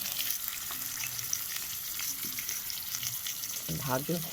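Potatoes frying in hot oil with turmeric give a steady, close sizzle throughout, with a brief stir near the end and no talking.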